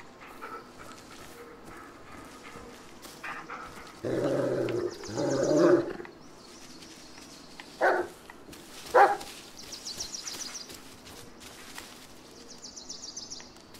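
Dog Bullet in the Blair Witch video game gives a few close, loud growling bursts and short barks in irregular spurts, separated by quieter ambient stretches, with no talk.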